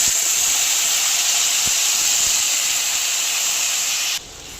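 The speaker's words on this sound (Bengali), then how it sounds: "খুব ভালো করে সব মশলা কষানো হয়ে গেছে, এবারে জল দিয়ে দেব।" Water poured into a pan of well-fried spices for a prawn and cucumber curry sets off a loud, steady hiss of sizzling steam, heard close up. The hiss drops off abruptly just before the end.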